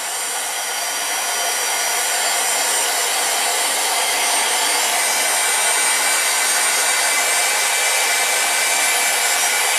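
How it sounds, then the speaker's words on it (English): Heat gun blowing hot air onto felt during a craft session; a loud, steady, broadband whooshing roar held continuously throughout with no talking. "your heat gun will melt your felt or fleece if you're using fleece"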